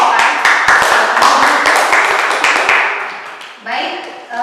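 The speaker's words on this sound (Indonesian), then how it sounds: "Tepuk tangan buat kelompok A" A classroom group claps for group A during a counselling session, a short bright burst of close applause that thins and fades, followed by a voice speaking.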